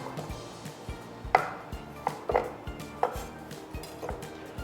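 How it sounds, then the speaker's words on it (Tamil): A knife chops baby corn on a cutting board, cutting small pieces in half and trimming the edges: a handful of sharp, irregular taps at close range, with faint kitchen background between them. "சின்னதாக இருந்தால் ஜஸ்ட் பாதியாக வெட்டி, மெயினாக அந்த எட்ஜ் ஜஸ்ட் சாப் பண்ணிடுங்க"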